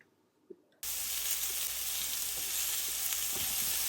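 Onion slices hit a hot pan of oil left over from frying pork chops, bursting into a loud, steady sizzle after a brief quiet start that holds close and unbroken for the rest of the clip.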